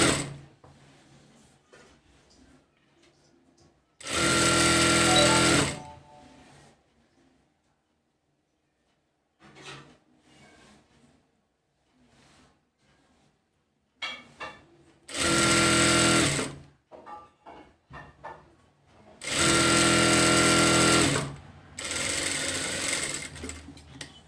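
Cowl sleeve for an umbrella frock being stitched on a sewing machine: three loud, steady runs of about two seconds each, separated by long near-silent gaps with faint rustling and handling clicks.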